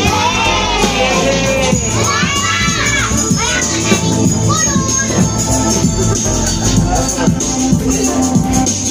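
Children at a seventh birthday party clap and cheer together, a dense, loud crowd of young voices with shouts and yays, while an adult host talks over them throughout.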